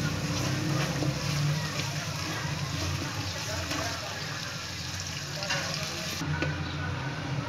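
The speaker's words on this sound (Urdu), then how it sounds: "پیاز بالکل براؤن ہو چکی ہے۔" Onions fry in hot oil until browned, giving a close, steady sizzling crackle with occasional stirring scrapes, easing off slightly toward the end.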